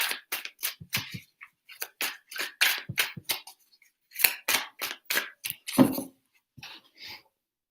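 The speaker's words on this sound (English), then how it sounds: "3 shuffles." Tarot cards are shuffled in quick riffling bursts, crisp papery flutters coming close together, pausing briefly, then resuming, near and fairly loud with no talk.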